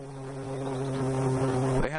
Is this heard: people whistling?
no